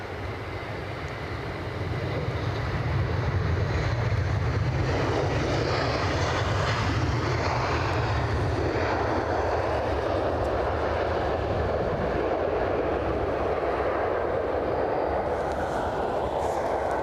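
A fixed-wing airplane at Edinburgh airport roars as it passes, the engine drone swelling after the first seconds into a loud, sustained broadband rush that holds steady for the rest of the stretch.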